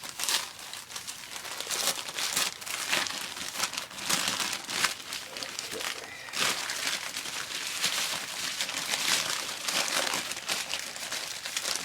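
Paper packaging crinkles and rustles steadily as a West German knife is unwrapped, with dense close crumpling that runs on without pause and no talk.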